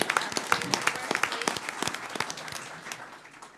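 Applause at a San Angelo city council meeting honoring a WIC manager, a modest group clapping fairly quietly with individual crisp claps audible, gradually thinning toward the end.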